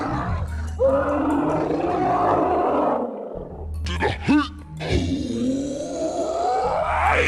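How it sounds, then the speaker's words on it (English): Orc roars from a video game: loud, growling, throaty roars with harsh bursts and a sharp snarl midway, close and dominant throughout. "the iconic orcish roars and sounds"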